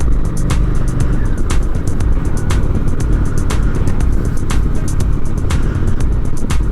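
A Honda Shadow 750 ACE motorcycle rumbles continuously while riding, a loud steady low engine drone mixed with wind roar, close and unbroken, no talking.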